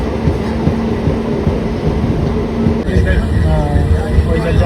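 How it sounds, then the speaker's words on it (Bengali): A Kolkata local train running from Baruipur toward Sealdah, heard from inside the carriage as a steady, loud rumble and rattle, with voices talking over it. "ফাইনালি ট্রেন ছেড়ে দিয়েছে বারুইপুর থেকে। এই ট্রেনটা যাবে সোজা শিয়ালদা।"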